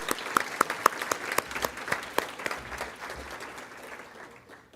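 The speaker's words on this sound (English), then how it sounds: "A round of applause for our host institution." Guests at a closing banquet applaud the host institution with a few sharp, distinct claps standing out over a general patter of clapping that slowly tapers off and fades.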